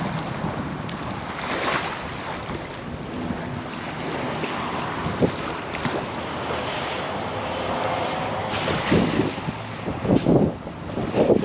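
Wind blowing outdoors by a riverbank rushes steadily against the microphone with a broad roar, swelling in stronger gusts near the end, and no one speaking.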